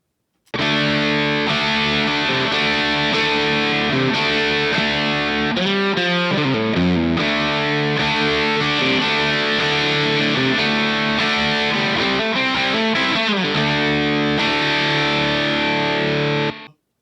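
A distorted electric guitar plays through a Two Notes speaker cabinet simulation in a continuous riff of chords and bends that holds loud and steady throughout, with no talking.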